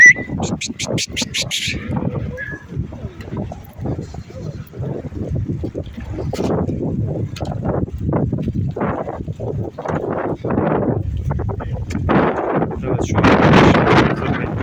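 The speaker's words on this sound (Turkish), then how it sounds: "Havada bugün biraz soğuktur. Bayağı bir esiyor." Strong wind gusting across the microphone on a cold day while female sheep are loaded, a steady rumbling roar that swells toward the end, with voices faintly audible beneath it.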